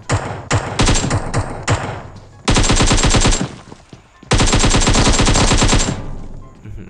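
Automatic gunfire in the video game PUBG Mobile: loud, rapid bursts of shots, first in short choppy volleys and then in two long sustained strings, with a brief gap between them.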